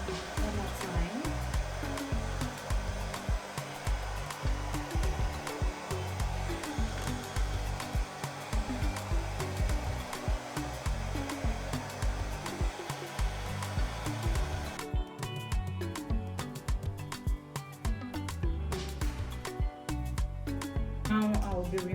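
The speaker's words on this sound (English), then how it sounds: "So after this, I'll be going back to my hand dryer" A hair dryer blows steadily and loudly at close range, melting the lace of a wig during a bald-method install, with a broadband roar that shifts in tone partway through.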